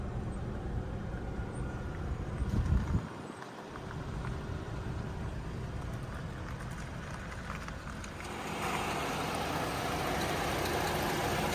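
The 3.6 liter V6 engine of a 2014 GMC Terrain Denali AWD idles steadily with a low, even hum, a brief quieter dip partway through, then a slightly brighter, louder stretch near the end.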